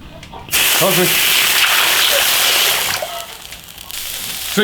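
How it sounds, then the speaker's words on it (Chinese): Snails being blanched in a pot of boiling water, with a loud steady rush of bubbling and sloshing close by that lasts most of the clip, and a short spoken phrase near the start. "水开了，把田螺焯过水"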